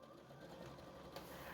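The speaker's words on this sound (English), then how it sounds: "this is my youngest child having a try at the sewing machine" A Janome JW8100 sewing machine stitching fabric, with a steady, quiet mechanical whir running through the clip and a faint clack near the end. No one speaks.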